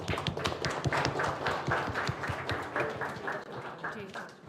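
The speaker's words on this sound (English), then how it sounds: "Kindly please clap." A crowd at a foundation launch event claps in a busy, uneven patter that continues steadily, with voices mixed in underneath before it thins at the end.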